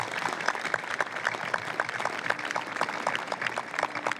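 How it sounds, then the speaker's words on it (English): Applause from the audience at a 2014 Army change of command ceremony for the 2nd Combat Aviation Brigade, steady dense clapping of moderate loudness with faint murmurs beneath. "Let's give them one more round of applause."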